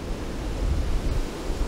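Strong wind blows steadily at an outdoor fishing spot, a dense rushing roar that buffets the microphone, loud and continuous with no other sounds.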